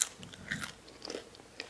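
Crunchy home-cooked turkey bacon is bitten and chewed close to the microphone, a few crisp crunches and soft chewing sounds, quiet with no talk.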